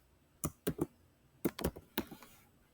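Keys on a computer keyboard are tapped in a few quick clusters, crisp close clicks separated by brief pauses.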